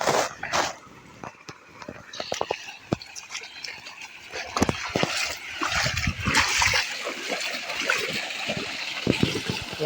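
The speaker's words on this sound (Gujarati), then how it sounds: "તો પાણી આવી ગયું છે" Irrigation water running into a farm field of fodder crops, splashing and gurgling close by with irregular bursts and trickles over a steady rush, and no one talking.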